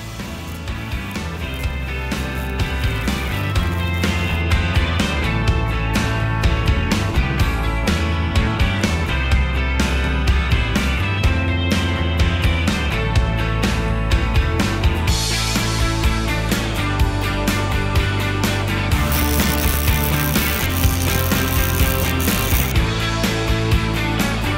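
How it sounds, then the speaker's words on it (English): A homemade arc welder runs on a practice piece of metal with a loud, steady, crackling buzz and sputter that carries on without a break for about twenty-five seconds, with no voices. "So as you saw, the welder was a success."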